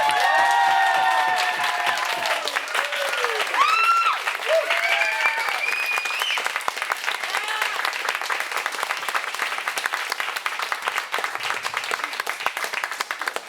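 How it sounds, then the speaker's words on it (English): An audience applauds for the host Garlan at a new-works show, loud clapping with whoops and cheers at first, then thinning into steadier, fading claps. "Round of for applause for our coming. host, Garlan!"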